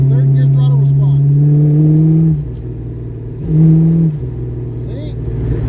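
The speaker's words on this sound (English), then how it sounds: "Third gear throttle response." A car with a carburetor choke under repair accelerates in third gear, its engine rising loud and close in pitch, dropping, then revving up again briefly, while a person talks over the motor.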